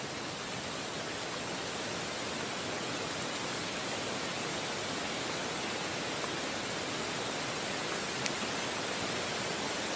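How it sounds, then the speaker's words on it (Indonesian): Heavy rain falls at a riverside campsite, a dense unbroken hiss with no voices, steady for the whole stretch. "Hujan mulai lebat lagi teman-teman nih"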